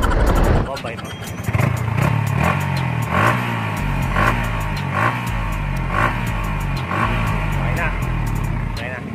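Yamaha R15 V3 motorcycle with its stock exhaust pipe revving close by, a steady engine drone broken by a series of rhythmic throttle blips that rise and fall for several seconds.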